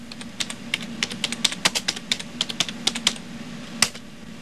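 Keystrokes clatter on a computer keyboard while an apt-get update command is typed, a quick irregular run of sharp clicks close by over a steady low hum, with one louder tap near the end.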